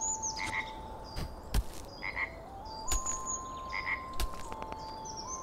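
A frog in the alien-world exploration game Star Surveyor croaks repeatedly in short bursts at an irregular rhythm, fairly close and loud over a steady musical tone and ambient background, with no talking.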